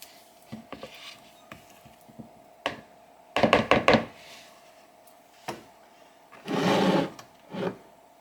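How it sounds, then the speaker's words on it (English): A spatula scrapes down a mixing bowl of gingerbread cookie bar batter in a home kitchen, giving a few scattered knocks and taps followed by short bursts of close scraping strokes, with a steady faint hum behind. "I'm just going to scrape my bowl down."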